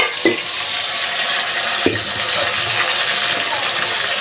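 Chicken leg pieces fry in hot oil with a steady, dense crackling sizzle throughout, broken by two sharp clinks of a utensil against the pan near the start and middle.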